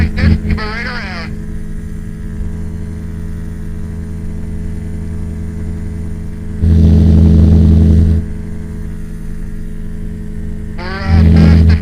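A small single-engine training airplane droning steadily and loudly through a climb in the circuit, its constant engine hum continuous throughout while voices speak over the intercom in short bursts.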